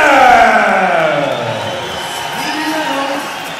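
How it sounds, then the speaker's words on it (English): A large arena crowd roars loudly for a fighter's introduction before an MMA bout, with a sustained swell of cheering that eases slightly but stays strong, and a commentator talks over it. "Another big pop from the crowd there."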